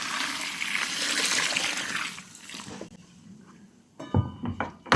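Water rushes out of a bucket in a strong pour for mixing mortar, then thins to a trickle and stops, followed by a few short clanks and scrapes close by.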